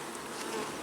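Honey bees swarm over an open hive frame as a beekeeper works, a short, dense buzzing drone close by with no talk over it.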